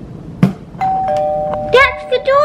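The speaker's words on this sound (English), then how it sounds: "That's the doorbell." A doorbell chimes with a sustained tone and a few follow-up notes, after a brief thump, while a voice chatters over it.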